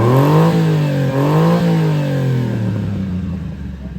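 A Honda Acty engine fitted with a Wirus Win exhaust revs up loud and close in a few rising bursts, then settles into a deep, steady gurgling drone.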